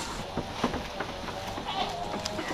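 Goats kept out on pasture bleat in a few short, moderately faint cries over a busy outdoor background, with no talking.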